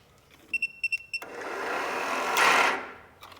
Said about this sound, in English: It's definitely a starter.